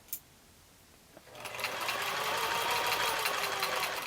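Sewing machine stitching quilt fabric pieces for a nine patch block, a brief click and then a loud, steady mechanical whir that starts after a moment and runs continuously, close up.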